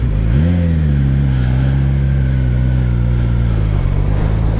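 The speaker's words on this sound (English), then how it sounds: "It's the 1000, so it's a liter bike." A Suzuki GSX-S1000F, a six-speed one-litre sport bike, revs up close and loud, its engine note climbing sharply before settling into a steady, powerful drone that holds to the end.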